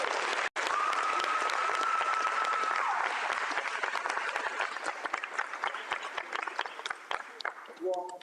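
A large crowd applauding at a law school signing day ceremony, steady dense clapping that holds then gradually thins, with a faint voice early on.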